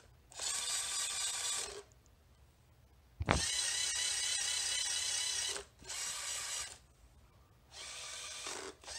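Robot belt and pulley drive with a gold pulley and a new pulley, whirring in steady motorized bursts of about one to two seconds, with short pauses between runs and a sharp clunk as one run starts.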